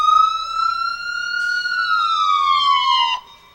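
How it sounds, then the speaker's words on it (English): A loud, close fire truck siren wails at a Fourth of July parade with a long, steady tone that slowly slides in pitch before cutting off near the end. "that siren's loud."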